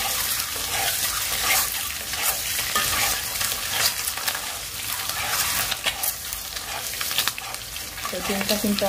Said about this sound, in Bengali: ডিমটা কিন্তু অনেক কড়া করে ভাজবো